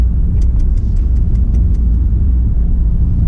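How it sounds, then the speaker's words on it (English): A 2019 Mercedes-AMG E63s in Sport Plus mode, its exhaust giving a loud, steady low rumble heard up close from start to finish, with faint crackles riding on top and no talking. "the kind of sound the exhaust makes"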